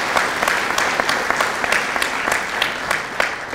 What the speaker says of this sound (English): we should all give them applause and credit